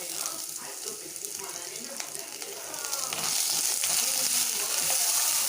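Dried red chillies and onions sauté in oil in a pan for a drumstick leaf poriyal, a steady sizzle that grows louder and brighter partway through as more goes in, with occasional stirring.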